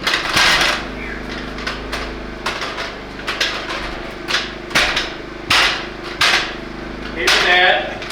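Hammer blows on lumber while framing a wall for a tool shed in a barn, about ten irregular sharp knocks spread across the span over a steady low hum.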